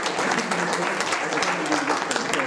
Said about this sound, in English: give the whole panel a very big round of applause